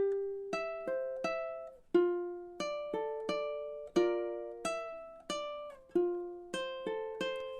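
A ukulele plays fingerstyle chords alone, with single plucked notes in an even, steady picking pattern, each ringing briefly before the next.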